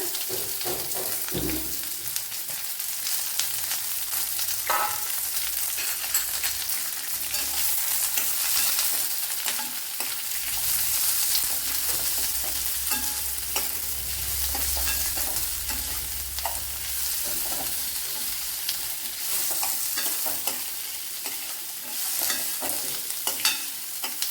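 Chopped onion and nuts sizzle steadily in a pan for an egg stew while a spoon stirs them, with intermittent scraping clinks over continuous close frying and no talking.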